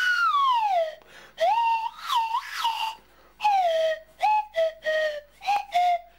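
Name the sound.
swanee whistle made from pipe with plunger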